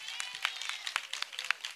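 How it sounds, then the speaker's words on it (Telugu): Audience at a Christmas celebration clapping, scattered sharp claps at an uneven rhythm, fairly faint and close, with no talking over them. "సంతోషంగా ఉన్న వాళ్ళందరూ గట్టిగా చప్పట్లు కొడతారా?"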